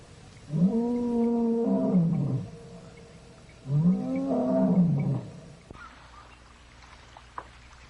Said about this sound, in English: The roar of the lion led the hunters closer and closer.